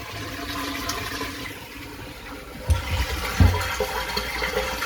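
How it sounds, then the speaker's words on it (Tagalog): Water pours steadily into a household storage tank, a continuous rushing, filling sound with a couple of louder splashes or knocks partway through. "Yan yung tubig namin. Tinan ko po kung puno na po siya."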